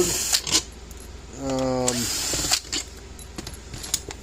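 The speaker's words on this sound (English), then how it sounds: "Let me take the screws out of the back here." Screws are backed out of the casing of a Power Wizard PW6000 electric fence energizer with a power driver: one short whirring motor burst amid close clicks and handling knocks.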